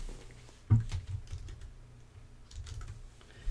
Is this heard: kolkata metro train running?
no